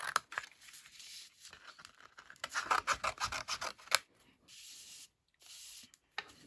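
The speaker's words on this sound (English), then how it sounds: "I'll snip a bit of this." Scissors cutting ribbon close by in a quiet room, a few soft snips and rasping rubs in quick clusters, with short pauses between them.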